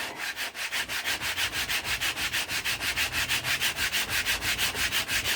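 Rhythmic back-and-forth sanding of wooden guitar stand edges by hand with an old sanding belt, a rasping scrape repeating about five times a second, close and steady, no talking.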